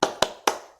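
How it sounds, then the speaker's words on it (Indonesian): A teacher in a classroom claps out the 'tepuk semangat' rhythm: three crisp, close hand claps, evenly spaced with short ringing decay between them. "Tepuknya seperti ini ya. Tepuk semangat."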